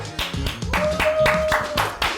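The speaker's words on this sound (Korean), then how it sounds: "다 같이 한번 박수 한번 치고" A small group claps together at a wine-tasting session, a brief run of distinct, fairly close hand claps with a faint tone running underneath.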